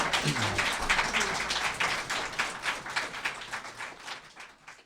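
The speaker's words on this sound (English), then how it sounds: "Please give our panelists a warm round of applause" An audience applauding panelists at the close of a live podcast event for the Writers' League of Texas, a sustained crowd clap that gradually thins and tapers off.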